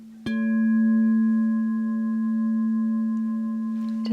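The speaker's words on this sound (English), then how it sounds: "Just the tapping sound, you can hear it lingering." A clear crystal ball is struck once, giving a sharp tap followed by a steady ringing tone that lingers for several seconds and then fades out, heard alone and close.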